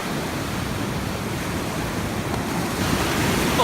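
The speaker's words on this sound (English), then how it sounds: "Both big waves." Big ocean waves breaking on the shore at Ocean Acres, a loud, steady wash of surf noise with wind buffeting the microphone, swelling slightly toward the end.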